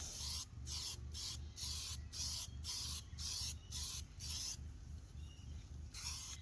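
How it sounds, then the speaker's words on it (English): A spray can puts satin black paint on a car's bull bar in close, rhythmic hissing bursts of about half a second each, separated by short pauses, with one longer gap before a final burst. "give her a bit of time to dry and we'll blow some paint"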